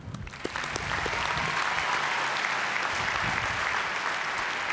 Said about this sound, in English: Please, one more time, a round of applause for Faith.